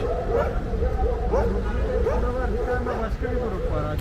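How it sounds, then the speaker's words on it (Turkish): A group of dogs yips and whimpers with scattered barks, close by, under a constant low rumble of background noise. "köpekler burada. Hepsi buraya toplanmış."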